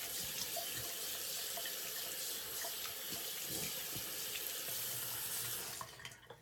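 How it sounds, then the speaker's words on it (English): Tap water runs steadily into a sink for rinsing during a straight-razor shave, a continuous close splashing hiss that cuts off near the end. "We're going to rinse for the first pass."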